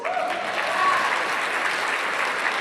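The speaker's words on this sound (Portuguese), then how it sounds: "Você pode aplaudir a Jesus?" A church audience at a leaders' event claps in a brief burst of continuous, even applause, steady and fairly loud with no speech over it.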